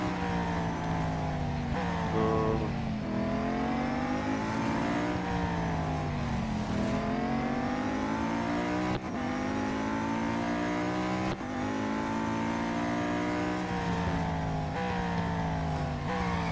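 Race car engines in Real Racing 3 drone steadily for the whole stretch, rising and falling in pitch through repeated gear shifts and acceleration, loud and continuous with no voices.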